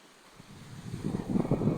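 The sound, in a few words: waves at the seaside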